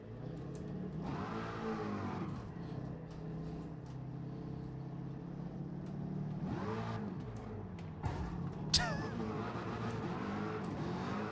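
A racing car engine in the video game Gran Turismo 7 revs and whines through gear changes, rising and falling in pitch over a steady engine drone, with a sharp bump near the end.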